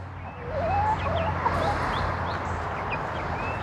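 Baby chicks kept in a small pen peep and trill softly over a constant hiss and low hum, with several brief rising calls scattered throughout.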